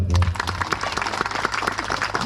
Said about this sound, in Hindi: ये जोर से ताली बजा दो